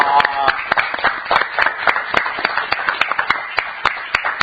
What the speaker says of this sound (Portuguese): Uma salva de palmas para a Raquel